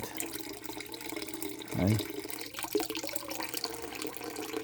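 Water drains from a full heating-system expansion tank with a steady, soft running sound and one brief gurgle partway through. A voice says a single short word.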